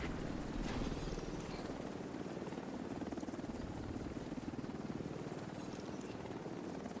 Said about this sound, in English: helicopter's coming in to get the briefcase